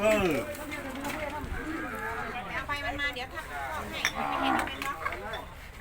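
Cattle at a busy cattle market low and moo repeatedly nearby, with several drawn-out calls over crowd noise while people talk throughout.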